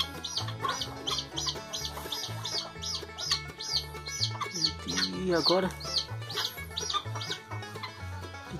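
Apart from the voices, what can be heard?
hens clucking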